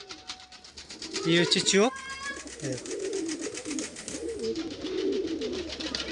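Large fancy pigeons of Kaldam and Laldam breeds cooing in bursts, with rapid fluttering and a busy market hum around them, while someone talks nearby.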